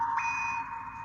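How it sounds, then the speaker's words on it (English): A phone goes off with a steady electronic beeping tone, clear and close, holding level for about a second with no talking over it. "Sorry, that's my phone."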